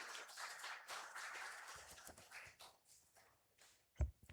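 A church congregation claps to welcome a visiting missionary at a mission Sunday service, a brief burst of scattered hand claps with soft taps and shuffling, rising near the end.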